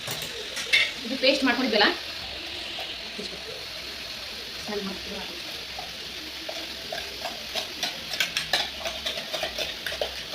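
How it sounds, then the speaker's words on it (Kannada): Masala, tomato and soybean frying in a pan as it is stirred, a soft sizzle under scraping and clinks of a spoon against the pan, close by, with someone speaking at the start. "ಮಸಾಲೆ ಹಾಕಿದೆ, ಟೊಮ್ಯಾಟೊ ಹಾಕಿದೆ, ಮತ್ತು ಸೋಯಾಬೀನ್ ಹಾಕಿ ಗರ್ ತಿರುಗಾತೀನಿ ನೋಡ್ರಿ"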